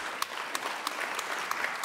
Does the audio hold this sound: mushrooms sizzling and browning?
no